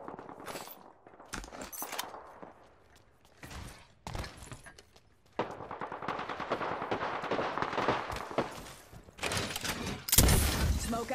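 Automatic weapon fire in the battle royale shooter Apex Legends comes in bursts of rapid shots, some close and sharp, others farther off, with gaps between volleys and a heavy sustained barrage near the end.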